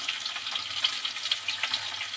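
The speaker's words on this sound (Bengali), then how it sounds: "আলুগুলো একটু ভেজে নিচ্ছি আগে" New potatoes frying in a pan give a steady, soft hiss and crackle of hot oil, continuous at moderate level with small pops, and no voices.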